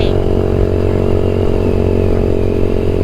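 Yamaha MX King 150 motorcycle fitted with a UB Bpro racing exhaust, a loud, close, steady engine drone with a slight rising rev near the start.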